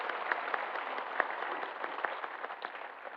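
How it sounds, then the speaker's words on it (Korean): Faint, distant congregation clapping fills a Korean Sunday church service as new church officers are installed for 2025, a steady soft patter with a few sharper claps standing out. "다 같이 서로 박수로 격려하겠습니다."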